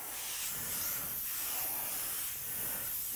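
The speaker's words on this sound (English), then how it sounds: "when you're laying out the Quicksilver Chrome in this fine mist, it just really lays out nicer on something that's been sealed" Quicksilver Chrome paint misted in fine, light coats from a spray gun over a sealed anodized black surface, a steady soft hiss running throughout at moderate distance with no voices.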